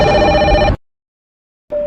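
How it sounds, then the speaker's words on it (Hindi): A telephone rings loudly with a steady electronic tone, pauses briefly in silence, then starts ringing again. "अचानक बूथ के अंदर से फोन की घंटी बजने लगी"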